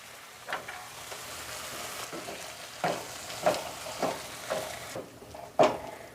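Diced bell pepper, green or red, and tomato flesh sizzle steadily in a hot pan, broken by repeated scraping stirs every second or so. No one speaks.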